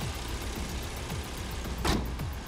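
A car pulls away slowly, its engine a quiet, steady low rumble with faint rolling noise and a short brighter burst of sound near the end.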